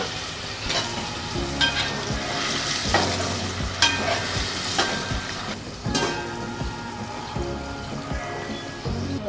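Eggplant and potato gravy in a pan with about half a glass of water added, stirred with a busy bubbling sizzle and repeated scraping strokes of a spoon, continuous and fairly close, no voices.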